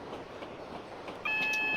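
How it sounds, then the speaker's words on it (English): Low rumble of a Class 66 freight train approaching in a train simulator game on the London-Bedford line, steady and fairly faint, with a thin electronic beep joining near the end. "That is a Class 66 freight service."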